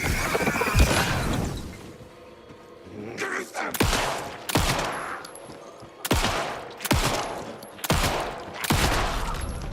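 Gunfire in the video game Alan Wake 2: heavy, booming shots go off one at a time at spaced intervals, about six in all, over a murky game background.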